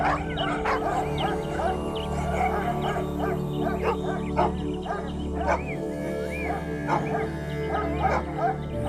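Several dogs bark and yip over and over close by in a morning setting. Whimpers and howl-like cries overlap the barks, and faint birdsong runs in the background.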